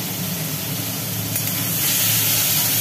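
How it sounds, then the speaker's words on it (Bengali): Prawns coated in salt and turmeric fry in hot oil in a pan, a dense loud sizzling hiss that continues steadily throughout, growing slightly louder toward the end, no talking. "এখন ভাজা হচ্ছে।"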